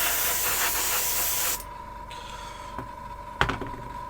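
Car spray paint hisses steadily from an aerosol can for about a second and a half, then cuts off, leaving faint room hum and a couple of small knocks while painting a model.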